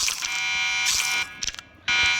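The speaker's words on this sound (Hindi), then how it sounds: "अलार्म बज रहा है गाइस बाहर किसी चीज का" A loud electronic alarm blares from outside in the Roblox horror game Break In 2, a harsh buzzing tone that sounds in long bursts, cutting off briefly before starting again.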